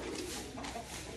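Pigeons in a storm-damaged backyard loft give low, soft coos close by, mixed with faint rustling and a light bird-call backdrop; no one speaks.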